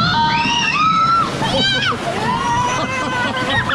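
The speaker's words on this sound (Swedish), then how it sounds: "Det kommer vatten. Nu kommer det." Water rushing and splashing at a water park ride, a steady loud slosh close by, with excited children's voices talking and shouting over it.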